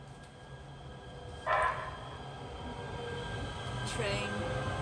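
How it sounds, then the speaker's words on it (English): A train passes with a steady, broad rumbling roar. Two brief brighter bursts, like a screech or clank, rise above it, and the rumble swells slightly toward the end. "Train."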